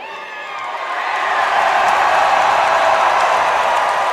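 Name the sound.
wrestling show crowd cheering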